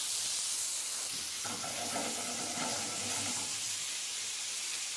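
Frog legs frying in butter in a pan, a steady bright hiss and sizzle throughout, with a brief burst of fuller crackling near the middle and no talk.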